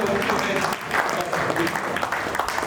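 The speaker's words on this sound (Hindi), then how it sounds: "तालियां बजती हैं" Sustained clapping from a crowd at an alumni meet, a dense, lively patter with voices mixed in.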